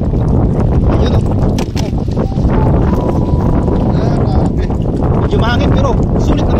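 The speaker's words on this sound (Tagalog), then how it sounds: "Medyo mahangin pero sulit naman ang hangin." Strong wind buffets the microphone at a trout fishing spot, a loud continuous roar through the whole stretch, with voices talking underneath.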